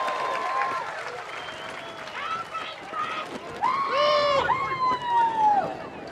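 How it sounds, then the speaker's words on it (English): Crowd noise at a dance competition final, with cheering, whoops and applause rising in bursts, while a loud voice shouts over the audience. "Big cheer! Woo!"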